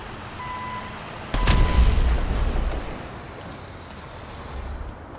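A gas leak explodes in Grand Theft Auto V: one sudden loud boom with a broad crackling burst that rumbles and fades over about a second, over steady background ambience, with no talking.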